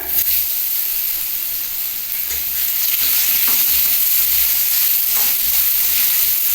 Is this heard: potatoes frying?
yes